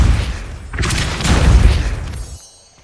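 Depulso spell cast in the Hogwarts Legacy video game, a loud booming blast that swells and rumbles for about two seconds before fading out.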